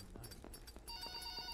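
A telephone rings in a video game, with repeated bell-like bursts that turn into a sustained electronic trill over a quiet background.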